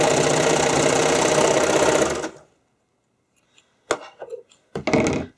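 A serger or sewing machine stitches fabric for skate covers, a loud, fast, steady mechanical whir that runs about two seconds and then stops, followed by a few brief handling knocks and rustles.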